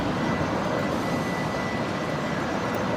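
Steady, loud broadband roar of a Fokker aircraft doing an engine run-up at Brisbane airport, continuous and unbroken throughout with no voices.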